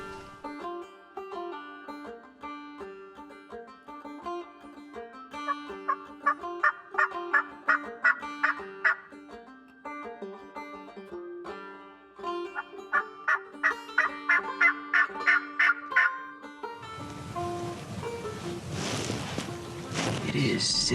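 Wild turkey gobbling near a creek, several rattling gobbles in repeated bursts from a moderate distance, followed by a loud rushing, splashing noise at the end.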